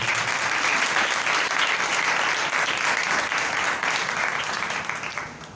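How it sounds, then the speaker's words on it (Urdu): A church congregation at a sermon breaks into loud, sustained applause, many hands clapping together in a dense roar that fades slightly at the end. "زوردار تالیاں جائے"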